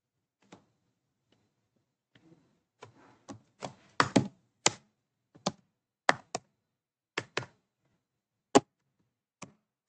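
Typing a Facebook page bio on a computer keyboard: sparse, crisp key clicks in irregular bursts, close and quiet, with short gaps between keystrokes and no talk.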